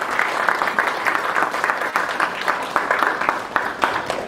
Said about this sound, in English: Please stand up and give him a round of applause.